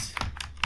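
A computer keyboard being typed on, giving three quick, quiet, close key clicks spread unevenly over a fraction of a second, with no talking.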